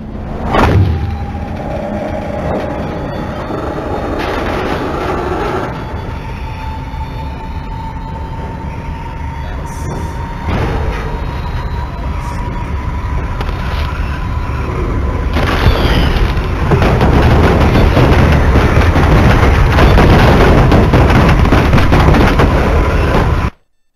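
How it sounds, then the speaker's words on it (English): Plane crash in the survival game The Forest, heard as a long, loud mechanical roar and rumble that swells steadily for about twenty seconds before cutting off abruptly. "Welcome to a plane crash, the forest."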